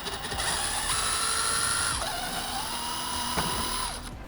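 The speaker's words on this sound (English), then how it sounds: "you got 2 Phillips screws that we need to undo." Phillips screws being undone by hand on a Toyota Rav4 side mirror with its cap removed: a steady close whirring and ticking of a ratcheting screwdriver, with short clicks and brief pauses and no talk.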